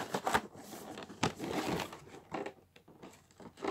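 Packing tape being peeled off a cardboard box during an unboxing, with scattered crinkling and ripping bursts, close and fairly quiet.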